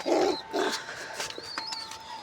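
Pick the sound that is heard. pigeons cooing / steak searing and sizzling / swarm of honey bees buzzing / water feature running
pigeons cooing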